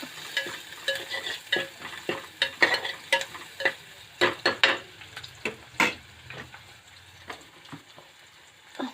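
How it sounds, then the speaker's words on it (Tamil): Onion and ginger-garlic paste sautéing in plain oil for a red chicken gravy, stirred with frequent sharp spoon scrapes and clicks against the pan over a soft, steady frying sizzle. "நல்லா வதங்கட்டும் இதுக்கு வெறும் எண்ணெய் வெங்காயம் இஞ்சி பூண்டு பேஸ்ட்டு தான் போடணும்"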